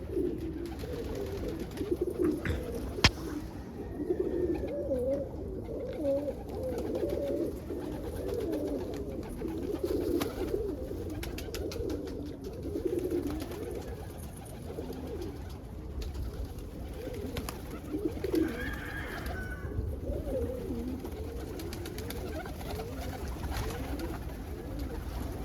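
Roller pigeons, including a khaki ballhead and a Duluth brown, coo in repeated soft, throaty rounds close by. The cooing continues steadily with a few brief flutters and some faint background noise.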